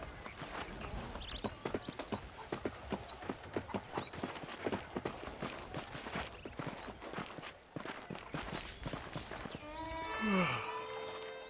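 Horse hooves clip-clop in a steady, rapid walking rhythm in the video game Red Dead Redemption, moderately loud and close, ending with a brief animal call near the end; no speech.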